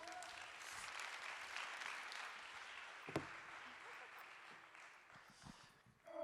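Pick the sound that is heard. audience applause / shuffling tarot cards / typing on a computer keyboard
audience applause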